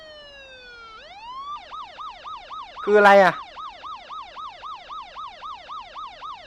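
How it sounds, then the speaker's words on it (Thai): A police siren winds up, then wails in a fast repeating up-and-down pattern, loud and close, interrupted midway by a brief burst of noise and a short spoken question. "เสียงตำรวจ"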